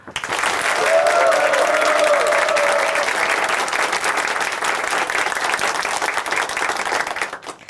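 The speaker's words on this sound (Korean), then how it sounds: "함께 박수로 응원해 드릴까요" An audience at a Korean Christian testimony program applauds steadily, a dense wash of clapping that holds for several seconds before tapering off at the end.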